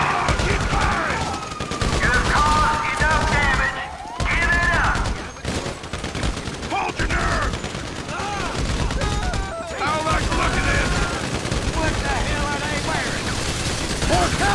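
Sustained gunfire in the game GTA V, dense rapid bursts of automatic fire and shots continuing loudly for the whole stretch, with voices talking over the shooting.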